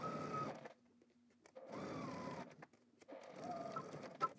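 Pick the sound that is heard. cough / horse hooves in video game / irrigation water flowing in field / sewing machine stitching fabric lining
sewing machine stitching fabric lining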